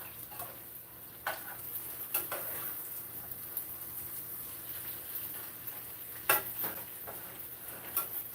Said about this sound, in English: I got some southern white potatoes and onions on.